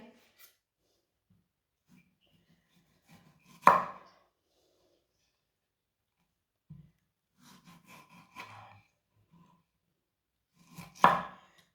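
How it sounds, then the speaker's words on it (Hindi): A knife finely chopping tomato on a cutting board for a chutney, in three short bursts of sharp cuts spread across the clip with quiet pauses between them. "टमाटर को भी बारीक बारीक काट लेना है।"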